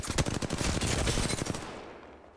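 Rapid automatic gunfire rings out in Apex Legends, a loud, close burst of dense repeated shots lasting about two seconds before fading out.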